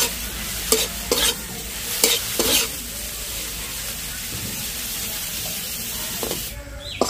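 A spiced tiffin filling frying in a kadai is stirred with a spoon, giving several loud, close scraping strokes over a continuous sizzle that carries on steadily after the stirring stops.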